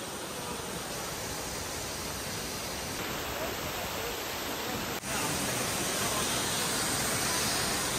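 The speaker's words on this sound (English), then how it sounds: "It's a very nice waterfall." Waterfall near Antalya, Turkey, a steady broadband roar of falling water that holds constant and fills the scene, close and loud, with no voices over it.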